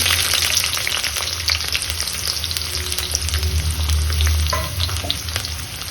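Chopped onion frying in hot oil in a home kitchen, a steady dense sizzle with low bubbling underneath and occasional stirring clicks, close and continuous with no talking.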